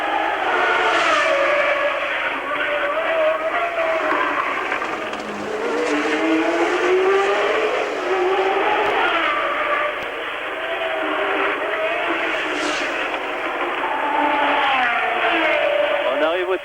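Formula 1 race cars at the Monaco Grand Prix in Monte Carlo whine past with rising and falling engine tones, a continuous loud stream of passing cars heard alone.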